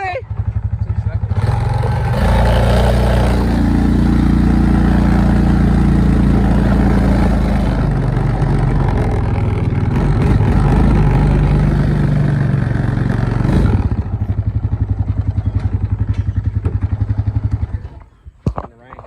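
An Oldsmobile Cutlass engine runs loud and close while the car drives, rumbling and shifting in pitch through the middle before cutting out near the end, with people's voices under the noise.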